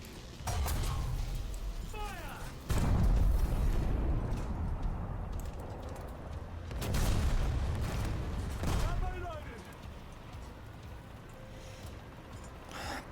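Gunfire and heavy blasts boom in War Thunder combat, several loud low impacts spaced seconds apart over rumbling battle noise, with someone talking at times.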